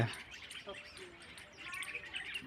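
Small birds gathered where grain is scattered chirp and tweet in quick bursts, faint and somewhat distant against a quiet outdoor background, with a brief voice.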